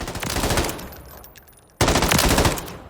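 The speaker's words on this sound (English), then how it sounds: "So, great gun, our MCX Virtus SBR, short barrel rifle." Rapid automatic fire from an MCX Virtus short-barrel rifle in Call of Duty: Modern Warfare III, a loud, dense burst that tapers off, then a second sharp burst resumes near the end, with no speech.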